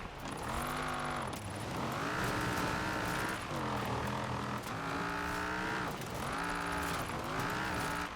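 A Cadillac Escalade in Forza Horizon 4 climbs uphill off-road with its engine droning loud and steady, the pitch rising through repeated gear changes and sometimes dipping, over faint tire noise.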